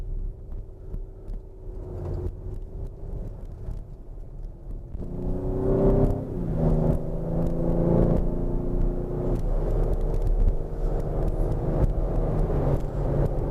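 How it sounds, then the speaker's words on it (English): A 2020 Ford Explorer drives on an icy road, its cabin filled with a steady low engine and road rumble that swells louder partway through, with faint whirring and tonal hum on top. "now we're going to go on a little road trip on this icy day."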